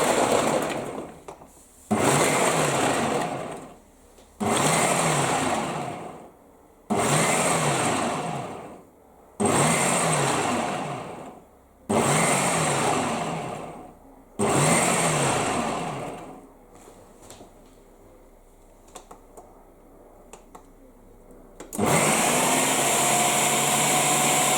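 A kitchen blender pulses through BBQ sauce ingredients in about seven loud whirring bursts separated by short pauses, then runs continuously at the end.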